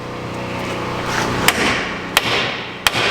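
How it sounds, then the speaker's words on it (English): A hammer strikes a nut on a Tiger Tool king pin press, giving three sharp metallic whacks spaced roughly a second apart, close and loud over a low background hum. "whack on that with a hammer"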